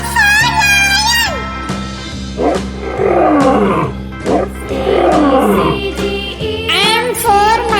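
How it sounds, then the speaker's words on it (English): A lion roars in a children's phonics song, deep rumbling roars rising and falling in the middle over music, with sung phrases around them. "L for lion."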